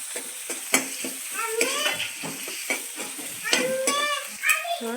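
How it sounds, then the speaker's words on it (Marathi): Crushed ginger and garlic fry in a pan for an Indo-Chinese chilli chicken gravy, with a steady sizzle broken by repeated sharp clinks of a spoon stirring against the pan. Brief voices and a goat-like call sound faintly in the background. "त्यानंतर अद्रक लसूण ठेचून घेतलेलं आहे. हे आपल्याला लालसर रंगावर भाजून घ्यायचं आहे."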